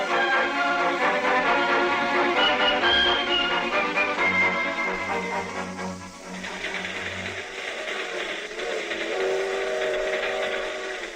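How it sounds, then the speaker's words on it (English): A freight train rolls along with a continuous rattling rumble, while a long steam whistle wails over it, shifting pitch partway through. "When's this here freight train get to Des Moines?"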